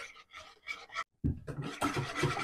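Crepe batter with sugar is whisked in a pot off the heat, giving close scraping, rubbing strokes that pause briefly and then resume more vigorously.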